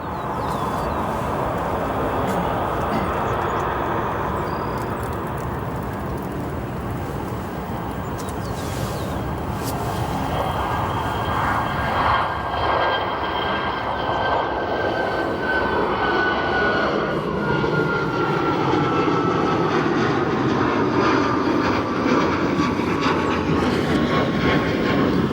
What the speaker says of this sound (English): Let's watch this American 737 depart now.